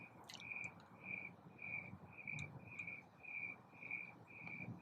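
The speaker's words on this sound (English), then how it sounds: "The noisy bug. I don't know what it's called, but it's like one of those leaf bugs." A noisy leaf-like camouflaged bug calls in steady, regularly pulsed bursts of high chirping, fairly quiet against a faint background hum.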